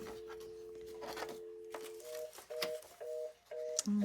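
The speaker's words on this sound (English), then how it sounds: "My phone's trying to get me." An incoming call rings on a phone indoors during a craft session, sounding as a steady electronic tone followed by a run of short, evenly spaced beeping pulses, moderately loud and close.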